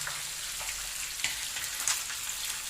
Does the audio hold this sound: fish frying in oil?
yes